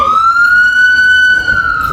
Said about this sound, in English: As soon as the ambulance get close, look.